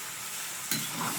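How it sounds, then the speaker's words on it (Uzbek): Vegetables, bell peppers, garlic and tomatoes for an outdoor lamb roast over a fire sizzle softly in a pan, with a brief louder burst as they are stirred. "Hammasini aralashtirib qovuramiz."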